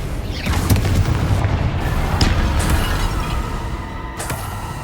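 Spell explosions and booming blasts from combat in the Hogwarts Legacy video game, a dense run of loud bursts and rumbling impacts with sharp cracks near the start and end, no talk.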